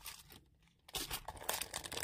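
Plastic file sleeves for passport pages, bought from Sima-land, crinkle and rustle as they are handled up close, with a brief pause before a louder run of crackling.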